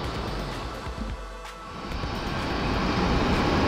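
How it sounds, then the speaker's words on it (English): An ANA airliner coming in on the tarmac at Haneda airport in Tokyo, a broad, steady jet roar that grows gradually louder over a few seconds, heard alone without talk. "And you see an airplane coming in, looks like a ANA, Nippon Airlines."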